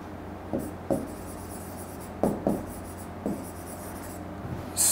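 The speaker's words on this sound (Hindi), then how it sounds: "फिर एक और लिखते हैं" Chalk or marker strokes on a classroom board while a teacher writes out an English sentence, a few short scratchy bursts spaced apart over a steady low room hum, with no voice.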